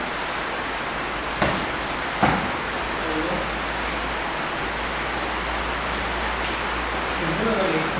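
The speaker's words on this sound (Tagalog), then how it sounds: "lumakas ng ulan" Dense steady hiss of heavy rain pouring down, with a couple of sharp knocks and faint murmuring voices in the background.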